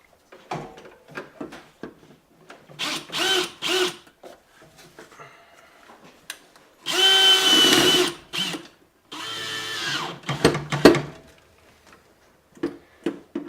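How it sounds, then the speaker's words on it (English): A power drill drives a self-tapping screw into the bottom hole of a Dixie Narco BevMax vending machine, in several close bursts of whirring separated by clicks, rattles and handling noises. "take a drill and drill it into that bottom hole"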